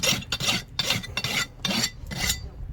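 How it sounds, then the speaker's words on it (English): Crimped horseshoe nails on a massive draft horse's hoof are rasped in a close, steady run of about six coarse scraping strokes with brief pauses between them. "So got all the nails crimped, just rasping them up,"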